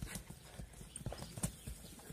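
Horse hooves clip-clop at a running pace on the ground at Jalal-Abad, giving quick rhythmic thuds at moderate distance.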